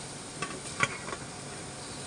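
Beef pieces go into a hot pan of oil with ground black and white pepper for a spicy beef roast, giving a soft sizzle with a few stirring clatters, close and unbroken by talk.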